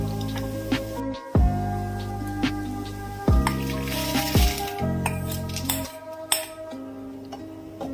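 A cooked sweet mixture for poha is tipped from a pan onto the flattened rice, giving soft wet squishes and sharp metal clinks of a utensil against the vessel over a steady tonal background.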